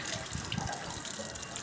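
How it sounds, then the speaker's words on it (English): Water runs steadily from the tap of an automated hand washing machine, a continuous close splashing hiss over the whole short stretch with no voices. "So the water comes and you wash your hand very well."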